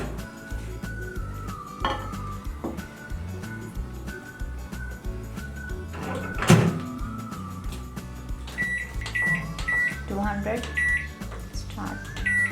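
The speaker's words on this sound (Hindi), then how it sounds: "माइक्रोवेव प्री हीट हो चुका है। अब हम उसमें इसको बेक होने के लिए रख देते हैं।" Microwave oven running while a tea cake bakes inside, a steady low hum under a woman's speech, with a few clinks of dishes, a sharp clatter midway, and several short beeps.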